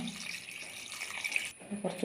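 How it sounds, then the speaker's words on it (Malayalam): Kanthari chili water runs and splashes into a cooking pot nearby, a steady trickling stream that breaks off near the end with a faint voice. "കാന്താരി വെള്ളം ഇട്ട് കൊടുക്കാം നമുക്ക് ആവശ്യത്തിന് വെള്ളം"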